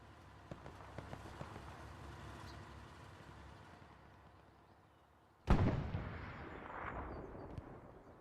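Artillery fire in the World War II shooter Hell Let Loose: faint distant thumps and pops at first, then one sudden loud, close blast whose rumble slowly fades out.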